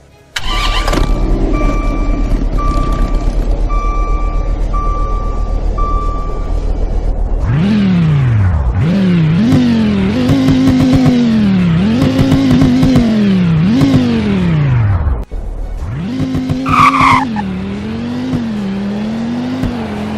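A video game sports car with a large rear wing, splitter, canards and aggressive diffuser starts with a sharp burst, idles steadily, then revs hard through repeated rising and falling pulls, loud and close.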